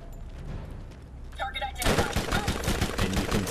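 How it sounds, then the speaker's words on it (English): Rapid bursts from the Bone Shredder, a high-rate spread-shot gun in Borderlands, rattle out loudly after a short lead-in of quieter game noise and a brief flicker of effects. "the best weapon to use against them at this point is probably going to be the Bone Shredder if you got it off of Chad"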